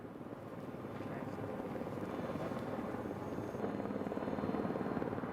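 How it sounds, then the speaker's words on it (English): A rescue helicopter flies near the Matterhorn, its rotor thrumming loud and continuous with a steady beating chop throughout, growing slightly louder over a few seconds, heard alone without talk. "Ten minutes later, the helicopter returns with a stretcher suspended underneath."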